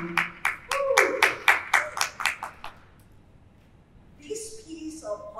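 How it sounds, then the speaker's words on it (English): Audience clapping for a performer at a slam poetry festival in Singapore, about a dozen sharp, distinct claps in a steady rhythm that stop after a few seconds, followed by a voice speaking. "let's all give a round of applause for Madam Sylvia Anglican"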